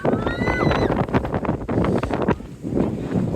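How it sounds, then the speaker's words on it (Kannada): Strong wind gusting at a hilltop viewpoint in Chikmagalur, buffeting the microphone with a steady broadband roar that dips briefly near the end, while voices talk underneath. "ಗಾಳಿಲಿ ತುಂಬ ಜೋರಿದೆ"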